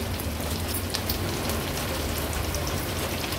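Asafoetida drops into sizzling tempering oil with mustard seeds, cumin, green chillies, curry leaves and crushed ginger-garlic, giving a steady, even frying hiss with no voices.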